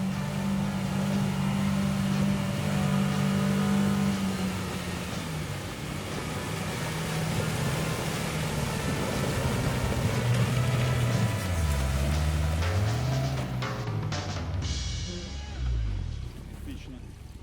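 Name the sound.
Tinger TF4 Pro amphibious ATV engine driving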